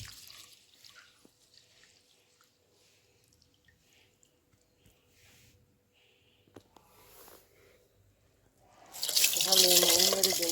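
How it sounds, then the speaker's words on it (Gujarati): Quiet kitchen clatter, then loud running water splashing into a vessel for the last couple of seconds as rice is rinsed under a tap. "ચોખા છે એને ધોઈ નાખીએ"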